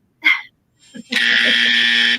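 A game show answer buzzer sounds in one long, loud, steady electronic drone lasting about a second, preceded by a brief voice and a short blip.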